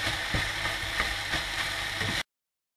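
Rice noodles with fish fry in a pan with a steady, close sizzle broken by a few soft clicks and scrapes from stirring, then the sound cuts off abruptly.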